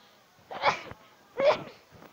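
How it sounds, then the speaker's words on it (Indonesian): Two abrupt, breathy sneezes from someone with the flu, about a second apart, close to the mic in a quiet room. "bersin saya flu."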